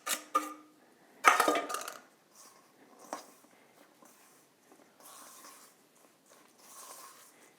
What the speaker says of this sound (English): Now I'm just gonna add in my wet ingredients to my dry. Give that a good mix.